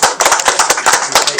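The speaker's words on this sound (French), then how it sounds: "applaudissez très fort pour elle" Loud, close clapping from a small group at an outdoor BBQ gathering, sharp rhythmic hand claps in quick succession.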